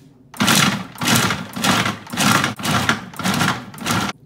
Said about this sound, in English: Into the food processor, and I'm gonna grind them down to small little bits, not puree.